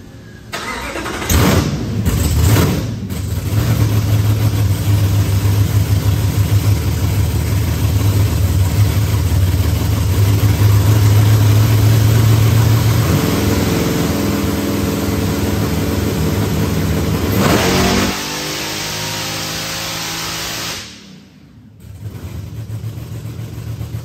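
Race car engine on a dyno during a pull after being leaned out, firing up then holding a loud, steady high-load drone for many seconds before dropping off and cutting out, with the idle resuming near the end.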